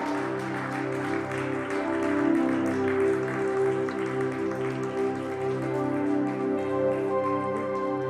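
A church congregation applauds steadily for about eight seconds, a dense wash of clapping layered over sustained musical tones.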